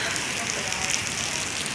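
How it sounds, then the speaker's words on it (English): Heavy rain pouring in a severe storm, a dense, steady hiss and patter of drops on surfaces, close and continuous. "And there's people out here like being like getting rained on."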